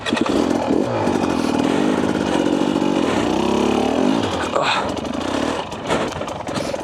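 A 2024 Husqvarna TE250 dirt bike rides through a rocky wash. The engine drones and revs loudly and continuously up close, with rattles and knocks from the rough ground. There is no clear talk.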